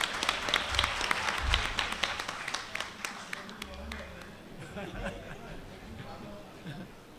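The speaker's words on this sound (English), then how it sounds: "Let's give a round of applause" Audience clapping at a university inaugural lecture, a loose burst of hand claps that thins out over several seconds while people talk nearby.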